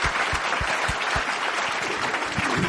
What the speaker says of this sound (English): Let's just give Robin a round of applause.